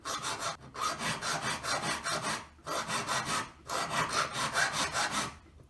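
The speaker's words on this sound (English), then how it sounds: "taking a coarse, flat file. Just turning it around, filing a little bit, until I've got the whole surface evenly filed." A coarse flat file strokes across a metal wedding ring in steady back-and-forth rasps, about a dozen close, even strokes in three bursts separated by short pauses.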